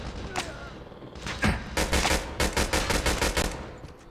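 Rapid automatic gunfire in the mobile shooter Call of Duty Mobile, a loud, tight burst of repeated shots after a few scattered single shots, close and punchy.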